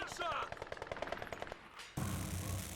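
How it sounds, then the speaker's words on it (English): Rapid machine gun bursts crackle in a Company of Heroes 2 match as Vickers and MG42 positions trade fire, a dense rattling stream of shots that breaks off before a loud blast of battle noise. "Now I've got triple machine guns locking down Monke Division."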